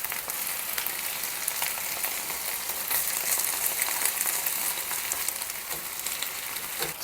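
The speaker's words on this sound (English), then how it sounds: "Let's add in the dandelion. Stir this up a little bit, get the garlic." Dandelion greens fry in hot oil with garlic, giving a steady bright sizzle with soft crackles and faint stirring scrapes. The sound is close and continuous, and nobody speaks.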